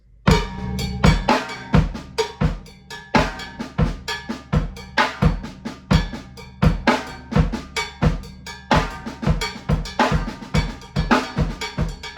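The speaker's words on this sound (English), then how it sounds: "So if I were to voice it on the cowbell" Steady, rapid cowbell strikes playing a paradiddle pattern with alternating accents, loud and close, played solo with no voices.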